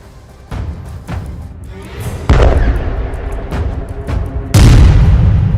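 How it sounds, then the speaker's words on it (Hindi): Heavy booming blasts from airstrikes on Gaza, several deep thuds spaced a second or two apart, the loudest two sharp and close with rumbling tails, no voices. "इस दौरान वहां पर सिर्फ धमाकों की आवाजें सुनाई दी"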